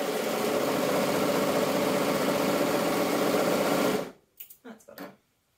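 A domestic sewing machine stitches stretch fabric with its thread tension out of adjustment, a steady, close mechanical whir running for about four seconds before stopping abruptly, followed by a few short bursts of quiet voice.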